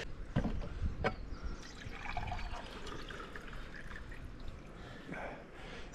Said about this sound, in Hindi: सनाउल्लाह भाई फ़ौरन से हमारे लिए पानी ले आए हैं